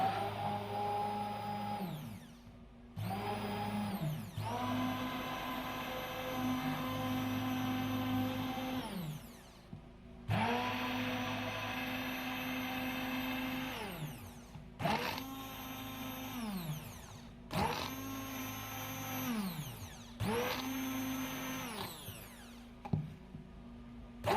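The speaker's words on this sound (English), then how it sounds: "So I'm blending surfactant with emulsion." A blender mixes surfactant with emulsion for an almond body scrub. Its motor whirs in several bursts that start and stop over about twenty-four seconds, with pitch sliding up and down at each start and stop. The sound is close and steady, with no talking.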